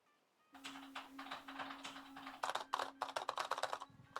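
Loud computer keyboard typing, with bursts of clacking keystrokes that start sparse, then grow into faster, denser runs of sharp taps close to the microphone over a faint steady hum.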